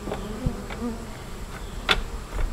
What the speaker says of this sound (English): Oh, there's like bees all over it.